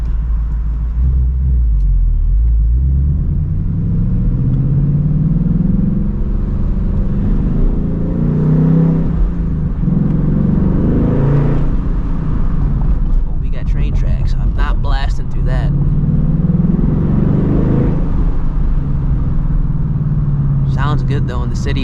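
A 2024 Ford Mustang GT drives through city streets at night, its engine a continuous deep rumble rising and falling with throttle, steady road noise underneath and a voice talking over the drive.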